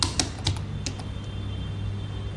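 A computer keyboard is tapped in a few quick, close keystrokes, ending with an Enter press, then room quiet follows.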